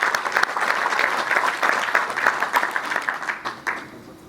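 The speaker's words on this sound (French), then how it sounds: "Je vous demande d'applaudir pour Chim et notre quartier." A crowd at a debate gathering applauds, loud, continuous clapping from many hands that swells and stays close before starting to fade near the end.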